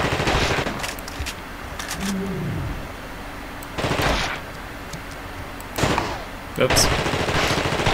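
Gunfire aimed at a creature in the video game The Thing, heard as several loud, broadband bursts spaced a few seconds apart, with a short spoken exclamation and some in-game creature sounds in between.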